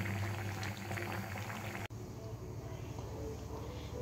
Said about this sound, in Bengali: একটু জাল করুক, ঝোলটা একটু শুকাক,